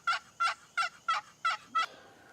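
Six loud, evenly spaced gobbles from wild turkeys, one about every third of a second, each a bright rattling burst close by, then a quiet tail.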